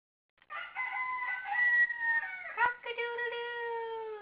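One drawn-out rooster crow on a farm, a clear rising and falling cock-a-doodle-doo lasting several seconds against a quiet background.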